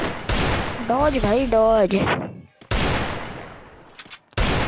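Bursts of gunfire in the battle-royale shooter Free Fire, loud broadband blasts at the start and again near the end, with someone shouting over the middle of the clip.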